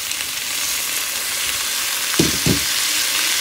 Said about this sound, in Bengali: তো এগুলো সব ভাজা করে নিয়ে নিয়েছি, বাকুইটটা ধুয়ে নিয়েছি, এবার এর মধ্যে দিয়ে দিচ্ছি।